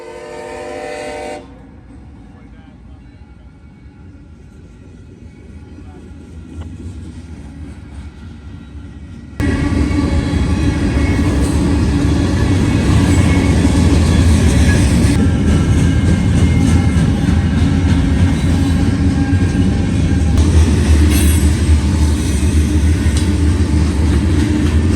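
A CSX freight train, M511, led by an NS B32-8 locomotive, blows a loud sustained horn at the start, then after a quieter stretch a heavy, steady roar of the passing train builds and stays loud to the end.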